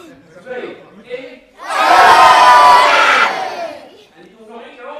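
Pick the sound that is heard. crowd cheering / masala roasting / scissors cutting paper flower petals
crowd cheering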